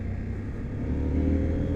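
Steady, loud engine rumble of a CFMoto Ibex 800T adventure motorcycle on an off-road ride, a continuous low drone that swells slightly in revs midway, with no talk over it.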